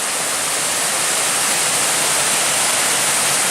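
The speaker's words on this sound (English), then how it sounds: "Waterfall here right where the trail crosses over Naval Run. It's flowing pretty good." A waterfall flows strongly where a hiking trail crosses Naval Run on the Black Forest Trail, giving a steady, loud, close rush of broadband water noise with no voices.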